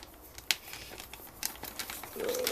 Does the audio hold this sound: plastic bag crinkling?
yes